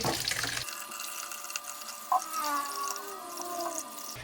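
Rice being washed in water for champorado, a mix of glutinous and regular rice, with steady running and sloshing water and a brief splash midway, heard alone.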